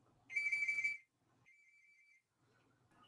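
A phone rings with a bright electronic tone, one strong warbling burst followed by a quieter steady beep, heard alone against a quiet room.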